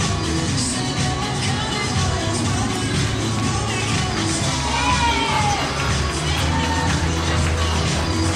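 A crowd at a freestyle horse show cheers and applauds in a loud, sustained roar of clapping, whoops and shrill shouts that never lets up.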